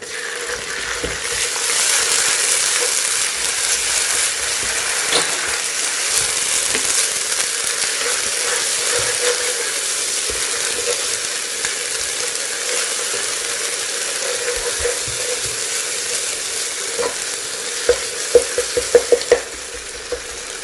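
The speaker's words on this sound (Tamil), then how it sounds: "இஞ்சி பூண்டு பேஸ்ட் வந்து எண்ணெயில் நல்லா வதங்கி வாசம் வரணுங்க" Ginger garlic paste and onions sizzle in oil for a mutton biryani, a loud continuous frying hiss with stirring scrapes and a cluster of sharper clinks of a spoon near the end, no talking.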